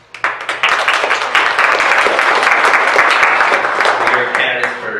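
Steady applause from an audience at a county candidate forum, loud and sustained with dense clapping for about five seconds, tapering slightly at the end.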